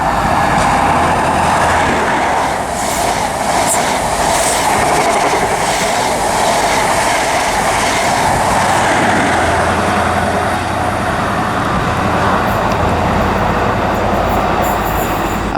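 A high-speed HST from Aberdeen, class 43 power car 43311, roars through Durham station on the East Coast Main Line, a loud sustained rumble with rhythmic wheel clatter and faint squeal throughout.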